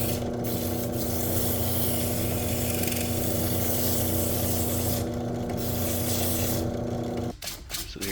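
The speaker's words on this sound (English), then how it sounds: "put it in the drill press and then use a little bit of that emery cloth again" Steady abrasive rubbing as emery cloth sands a hand plane knob spinning on a drill press, under the hum of the running machine, continuous for several seconds, then the motor cuts out with a few clunks.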